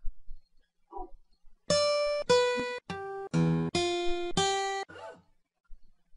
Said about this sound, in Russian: Вот шумы гитары.